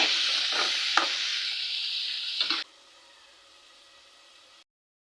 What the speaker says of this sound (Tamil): தக்காளியும் போட்டுட்டு நல்லா வதக்கி விட்டுக்கலாங்க